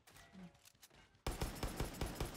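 Rapid gunfire bursts out loud and dense in the Far Cry 6 video game after a quieter opening, with shots crackling in a continuous, repeated volley.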